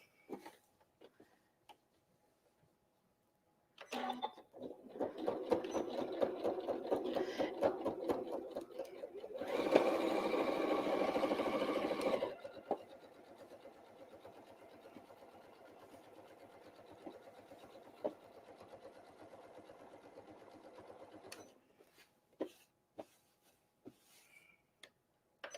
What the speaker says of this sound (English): I'll just go ahead and sew down this other pocket